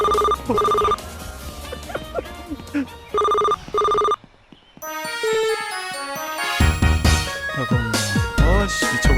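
Phone ringtone from the video game Run Pizza Run, chiming in two short bursts amid game music and effects, with a player talking over it.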